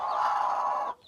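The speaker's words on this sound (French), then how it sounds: "Une poule qui couve, hein." A single drawn-out, throaty cluck from a brooding hen, held for about a second and then cut off, close by.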